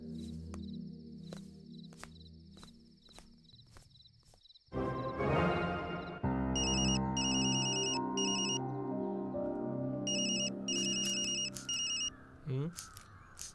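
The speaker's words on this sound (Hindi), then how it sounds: "फोन बज रहा है, सुनाई नहीं देता?" A telephone rings in repeated electronic bursts, first under a steady tone, then again amid loud music and voices in a tense domestic scene; the rings come in short clustered trills, fairly close and clear.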